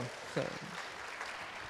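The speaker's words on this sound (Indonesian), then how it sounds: "Tepuk tangan dong." A stand-up comedy audience claps in a dense patter that carries on steadily under a voice speaking over it.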